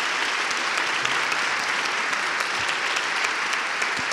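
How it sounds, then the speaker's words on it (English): An audience at a public talk with Governor Bill Weld claps steadily, a dense even wash of applause with no voices standing out. "How about a round of applause for Governor Weld"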